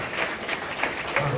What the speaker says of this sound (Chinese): 我们给他一个掌声啊